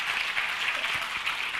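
Audience applause at an HR conference, steady dense clapping filling the short stretch with no voices over it.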